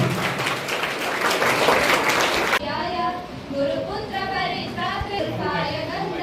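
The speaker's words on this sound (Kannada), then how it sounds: "ಜೋರದ ಚಪ್ಪಾಳೆ ಹೊಡೆಯುವುದರ ಮುಖಾಂತರ" Loud audience applause at a World No Tobacco Day event at Dolphin PU College in Shidlaghatta, dense clapping that cuts off abruptly, followed by a voice speaking.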